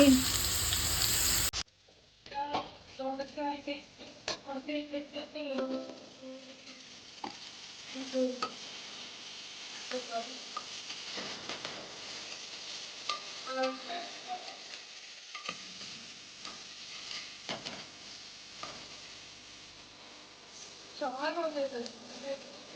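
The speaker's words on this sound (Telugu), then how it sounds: "దొండకాయలన్నీ ఇలా ఫ్రై చేసుకొని పల్లీలు అవన్నీ ఫ్రై చేసుకొని పక్కకు పెట్టి" Ivy gourd and peanuts fry in a pan, giving a soft sizzle with scattered stirring clicks and scrapes. A voice talks over part of it.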